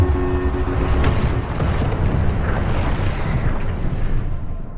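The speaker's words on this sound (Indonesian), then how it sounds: "Melihat modul pendaratan meledak, Richard berusaha melakukan komunikasi" A landing module explodes in a film scene, a loud sustained rumbling blast with crackling debris that stays dense and heavy throughout before easing slightly at the end.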